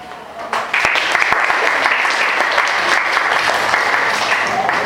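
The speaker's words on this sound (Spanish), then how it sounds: "Un aplauso." A school audience at a second-grade Peter Pan reading performance breaks into steady, sustained applause that swells after a soft start and carries on evenly at a moderate level, with no talking over it.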